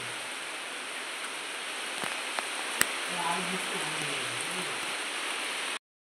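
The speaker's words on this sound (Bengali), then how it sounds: "এই দেখুন বৃষ্টি পড়ছে" Light drizzle falls on a rooftop as a steady, even hiss of rain, moderately quiet, with a couple of brief taps and a faint low voice murmuring partway through before it cuts off.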